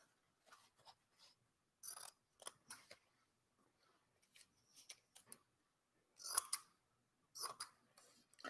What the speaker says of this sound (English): I'll cut out one more.